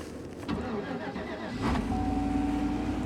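A vehicle engine cranks and fires up on a cold morning around minus six degrees, settling into a steady, loud idle with a rising whine; a voice speaks briefly under it.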